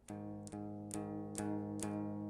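A clean, undistorted, detuned low guitar power chord is struck five times at an even pulse, each strum ringing into the next, fairly quiet.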